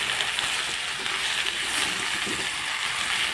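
Taro leaves fry in oil in a pan and are stirred with a spatula, giving a steady, even sizzle that fills the whole stretch at moderate loudness. No one talks.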